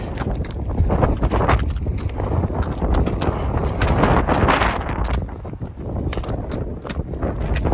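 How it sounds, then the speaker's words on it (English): Wind buffets a microphone outdoors in Arizona shed-hunting country, a continuous rumbling roar with gusty swells and crackles that dominate the whole stretch. "Hopefully you guys can hear the audio, it's kind of windy."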